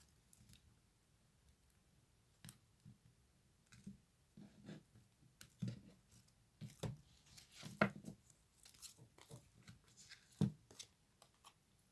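Astrological cards handled and shuffled close up, with faint, scattered soft taps and flicks in quiet surroundings, irregular in rhythm and growing busier partway through.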